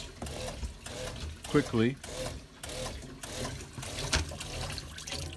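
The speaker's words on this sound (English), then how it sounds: "you turn on the water, the pump cycles" A boat's onboard freshwater pump cycles with a mechanical, ratcheting whir while a tap runs, water trickling underneath; brief speech breaks in partway.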